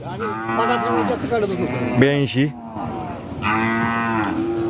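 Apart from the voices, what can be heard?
Khillar cattle mooing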